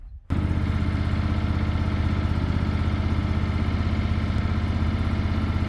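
A small tractor fitted with a backhoe idles steadily after its engine catches, giving a constant, close, mid-pitched diesel putter that runs on alone without a break.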